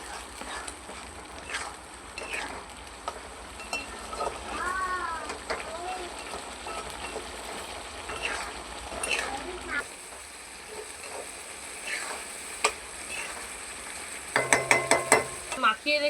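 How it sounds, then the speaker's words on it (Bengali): Turmeric and chilli powder sautéing in a pan for a chicken neck curry: a soft sizzle with scraping stirs throughout, then a burst of sharper clatter near the end. "এবার এটা ভালো করে একটু কষবো।"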